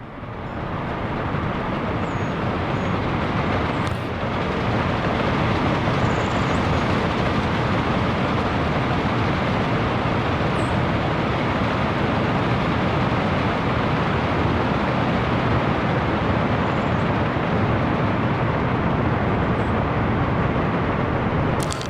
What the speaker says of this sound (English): Two enormously long trains passing each other here